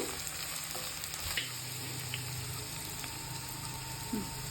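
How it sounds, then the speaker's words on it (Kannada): Capsicum and cabbage frying in a pan for red pasta give a steady, close sizzle with occasional stirring scrapes, running on without talk. "ಫ್ರೈ ಮಾಡ್ಕೊಳ್ಳಿ."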